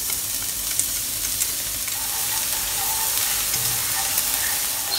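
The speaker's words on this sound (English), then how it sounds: "once the pan is heated up, add in 6 cloves of garlic chopped" Six cloves of chopped garlic fry in a heated pan with a constant, close hiss of sizzling that stays even throughout.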